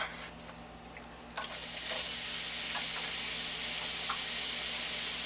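Onions frying in butter in a pan on the stove over high heat, a broad steady sizzle that starts abruptly after a quiet moment and holds loud and close, with a few small clinks and stirs.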